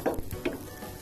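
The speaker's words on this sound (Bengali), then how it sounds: "আমি আবার উল্টিয়ে নিচ্ছি।" An oats and egg omelette is turned over in a frying pan over gentle heat. A couple of soft close thumps sit over a brief, light sizzle.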